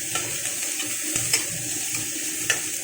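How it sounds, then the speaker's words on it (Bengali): Onion is stirred lightly in hot oil in a pan for a Bengali fish recipe, giving a soft steady sizzle close by, with occasional scraping clinks of the spoon. "দিয়ে দিলাম পেঁয়াজ, পেঁয়াজটাকে হালকা করে নাড়াচাড়া করে নিলাম।"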